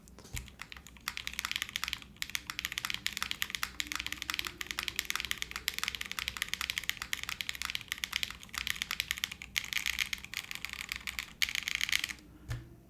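Steady, fast typing on a Pluto FRL TKL mechanical keyboard with an aluminum top-mount case, a dense run of crisp keystroke clacks continuing close up and alone with no voices.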